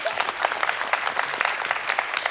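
A studio audience at a late-night TV talk show claps in brisk, fairly loud applause, the individual claps distinct and continuous for a couple of seconds.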